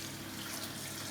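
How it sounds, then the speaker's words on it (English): Water swirls and rushes in a bowl or sink while leafy greens are washed, a continuous dense splashing wash heard close with no voices. "Just swirl it up and down and drain the water."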